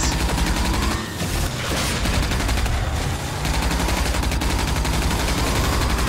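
Sustained heavy gunfire in the video game RAGE, loud and continuous throughout with rapid repeated shots and brief dips between bursts.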